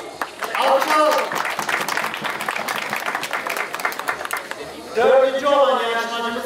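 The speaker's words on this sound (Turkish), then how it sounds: "Alkış alalım" Crowd applause for a contestant at a lamb-shearing festival in Beytüşşebap, a dense wash of many hands clapping for several seconds before a voice cuts in over it near the end.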